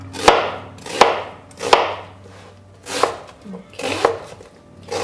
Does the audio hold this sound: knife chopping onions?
yes